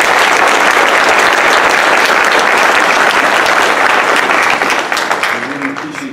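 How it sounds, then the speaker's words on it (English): Loud, dense applause from a town hall audience on drug overdose awareness, honoring a family, a continuous wash of many hands clapping close by that fades near the end. "can we all have another round of applause for Perla Perez's family?"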